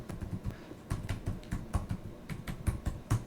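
Keys clatter on a computer keyboard as a Linux terminal password is entered: quick, uneven keystrokes, close and moderately loud, with no talking.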